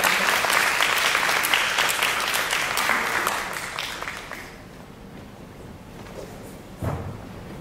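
Audience applause at a talk on violence against immigrant women, loud dense clapping that thins and fades after about four seconds into quiet room noise with a brief knock near the end.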